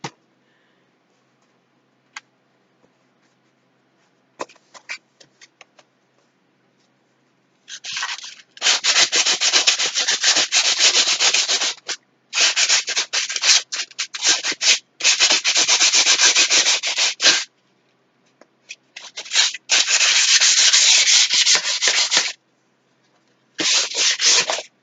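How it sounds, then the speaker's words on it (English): Cardboard is sanded by hand in close, raspy rubbing bursts, several seconds each, separated by short pauses and a few faint taps. "I truly do love working with cardboard. I don't even mind sanding."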